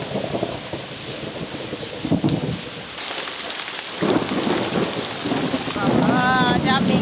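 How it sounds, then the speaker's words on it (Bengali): Heavy rain with rolling thunder, a loud downpour drumming on surfaces while deep rumbles of thunder rise and fall, with a brief lull midway before the storm swells again. "যা মেঘের গর্জন,"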